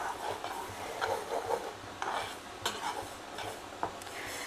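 Mustard seeds and fenugreek dry-roasting in a pan for onion pickle, with a faint crackle under stirring, scraping and occasional metallic clicks of a spoon against the pan.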